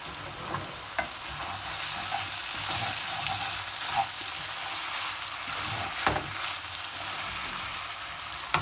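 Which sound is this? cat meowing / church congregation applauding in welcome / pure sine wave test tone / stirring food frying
stirring food frying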